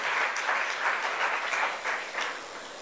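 A church congregation claps in praise of God, a sustained, fairly loud wash of many hands with gentle swells, heard without speech.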